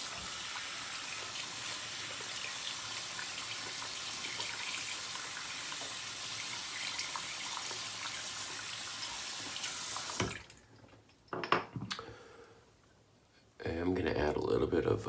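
Tap water runs steadily from a faucet into a sink during a wet shave with a Gillette NEW razor, a continuous close gush that stops abruptly near the end, followed by brief clinks, then resumes.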